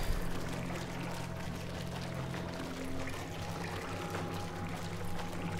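Water draining out of a chamber in the Portal 2 video game: a steady, loud rushing pour that holds unbroken for the whole stretch, with no talk over it.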